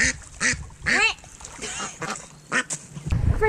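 Ducks at a dam quack loudly and close by in several raspy bursts, with splashing and outdoor background noise between the calls.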